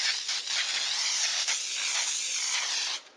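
Baker's Joy baking spray hisses steadily from an aerosol can into a cake pan, a close, continuous spray lasting about three seconds with only brief dips before it stops.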